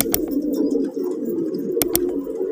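Fighter pigeons coo steadily and close by in a continuous low rolling murmur, broken by a few sharp snapping clicks.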